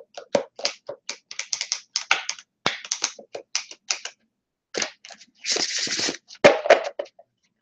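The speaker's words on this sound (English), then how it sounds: "I'm going to go ahead and shuffle the deck." A burst of crisp riffling and flicking card sounds, a quick pause, then another longer riffle and snap, close and fairly loud.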